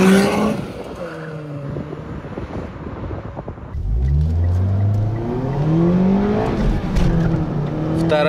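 A Chery Arrizo 8 1.6T with 186 hp and a Mitsubishi Lancer 10 2.4 accelerate side by side in a race, engines droning and then rising in pitch through gear changes, mixed with heavy wind rush on the microphone.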